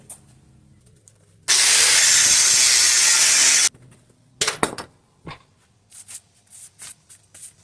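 Leaf spring mounts being cut off a Ford axle with a loud harsh hissing burst lasting about two seconds, followed by scattered clanks and scrapes of metal.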